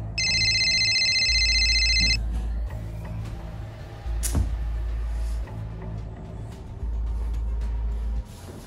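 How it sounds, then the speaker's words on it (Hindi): A phone ringtone chimes in a repeating electronic burst at the start, over a low rumbling background with intermittent hum. "किसका फोन आ रहा है, उठा क्यों नहीं रही?"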